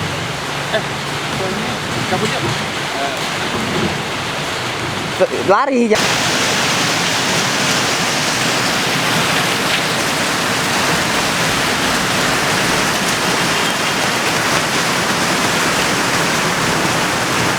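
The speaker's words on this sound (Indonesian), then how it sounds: "Aduh, udah mulai gerimis sih, udah mulai hujan." Rain falls outdoors in a steady, loud hiss that fills the scene and swells after a brief break, while young people talk briefly near the start.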